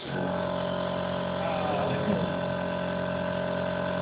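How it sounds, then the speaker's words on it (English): An air compressor running in a garage, a loud, steady motor drone with an even hum that carries without a break through the whole stretch. "Well, the compressor is working"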